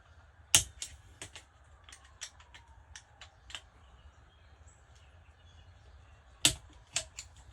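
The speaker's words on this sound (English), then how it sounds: "if I take two flatheads, go reverse, I should be able to pull this apart" Two flathead screwdrivers pry a snap ring off a Ford Focus part, giving scattered sharp metallic clicks and small creaks. Two louder snaps stand out against a quiet background.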